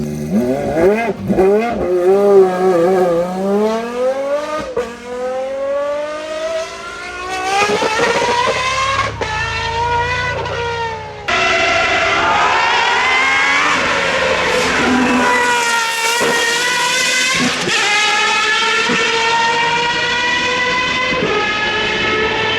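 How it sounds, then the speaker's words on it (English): A T50S supercar at the Goodwood Festival of Speed screams past with a high, rising and falling engine note that shifts through several gears. A sharp drop midway gives way to a louder, brighter run. No voices are heard. "The best sounding car at Goodwood Festival of Speed has to be the T50S."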